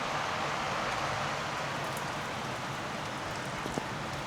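Heavy rain pours down in Vietnam as a steady, even hiss of falling water, soft and somewhat distant, with no voices over it.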